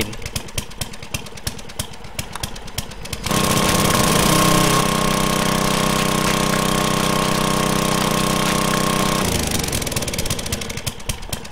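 A loud, steady mechanical drilling drone with a sustained high whine from an auger in the game 7 Days to Die kicks in abruptly, holds for several seconds, then eases down, following quieter clattering.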